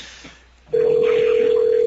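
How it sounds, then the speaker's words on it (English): Ringback tone on an outgoing phone call: a single steady electronic tone starts abruptly after a short quiet pause and holds loud and unbroken to the end, with no talk over it. "the phone's ringing"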